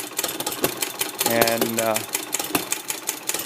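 A model hit and miss stationary engine, a domestic stovepipe type, runs with a rapid mechanical ticking and clatter, while someone speaks briefly over it partway through.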